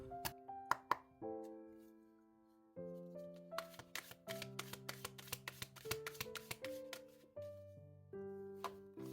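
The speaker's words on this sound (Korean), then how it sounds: "타로 카드 2장 볼게요" Tarot cards are drawn and handled, making soft taps and slaps up close over gentle melodic background music, with no talk.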